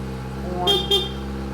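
A 2021 Kawasaki ZX-10R motorcycle sounds its horn in two short, high bleats close by, over the idling engine's low hum.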